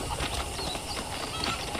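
Horse hooves clip-clopping steadily in the Red Dead Redemption video game, a continuous close rhythmic patter of hoofbeats over a busy bed of game ambience.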